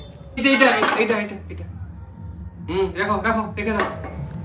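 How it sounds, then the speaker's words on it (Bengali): A 15-month-old baby sets out dishes and utensils in a kitchen, with clinks and clatters of pots and cutlery close by, heard amid adult talk. "কিরে, তুই এখন কি পাপার সাথে বাসন সাজানো শিখছিস?"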